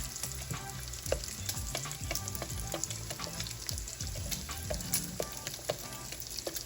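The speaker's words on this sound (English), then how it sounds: "We're just gonna stir that till it melts" Cheddar cheese is stirred into a pan of melted butter, with a soft bubbling sizzle and repeated scraping strokes of a utensil against the pan, close and steady, without talk.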